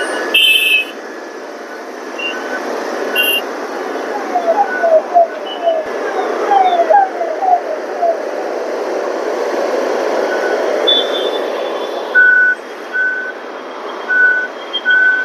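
Reversing beeps from a truck ring out in short repeated bursts at a metro station construction site. Engine and traffic noise rumble along steadily beneath them, and the beeps come clearest toward the end.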